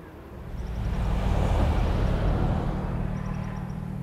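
Toyota GR Supra driven in Forza Horizon 5, a steady low engine and road rumble swelling slightly mid-clip, with no talk over it.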